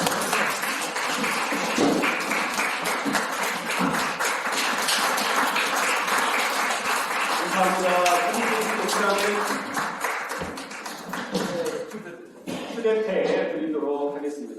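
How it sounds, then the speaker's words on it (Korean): Long, sustained applause from an audience at a Korean ceremony, a steady dense wash of clapping that fills most of the stretch, with a speaker's voice rising over it near the end. "자, 나오실 때 다 같이 힘찬 박수로 환영하겠습니다. 긴 박수 하겠습니다."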